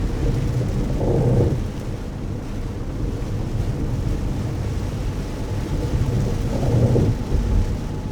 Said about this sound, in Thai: ฝนตกแรงขึ้นนะคะตอนนี้